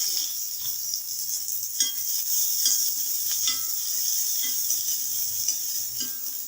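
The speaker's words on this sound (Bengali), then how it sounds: "এভাবে ছোলাটা রেডি করে নেব, 5 মিনিট ধরে ভেজে নেব।" Boiled chickpeas with onion frying in oil, a continuous close sizzle broken by regular stirring scrapes and taps of a utensil against the pan, with no voices.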